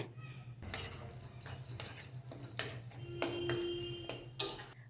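Taro leaves with shrimp stirred in a pan with a utensil, producing a series of close, irregular clinks and scrapes against the metal, fairly quiet in a kitchen setting.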